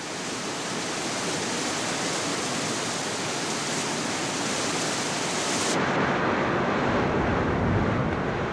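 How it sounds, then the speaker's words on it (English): Spectacular waterfalls where Britain's shortest river drains a Scottish loch on the west coast, heard as a steady, dense roar of rushing water that holds constant throughout with no voices. "Britain's shortest river drains the loch over a series of spectacular waterfalls."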